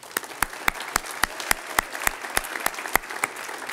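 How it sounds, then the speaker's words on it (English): Applause for wrestler Ben Stallman at a winter awards ceremony: brisk, evenly spaced claps ring out in a steady rhythm for several seconds, with no talking over them. "Please give a big round of applause for Ben Stallman."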